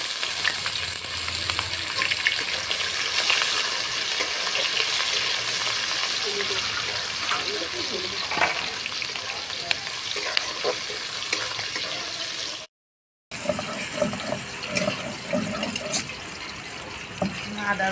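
Onion, green chili and bay leaf fry in hot oil for a crab curry, giving a loud, steady close sizzle with occasional stirring clatter.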